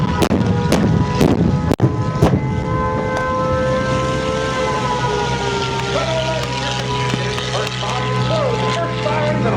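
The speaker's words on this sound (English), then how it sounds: "First sirens and alarms sound." Air raid sirens rise and wail over a dense, rumbling battle din at an air show's Pearl Harbor reenactment, with sharp bangs and crashes punctuating the first few seconds.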